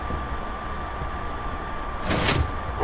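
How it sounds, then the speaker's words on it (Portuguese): A door opening in the Minecraft video game, a short sliding burst rising briefly over steady background hum, heard alone near the end. "Abre a porta."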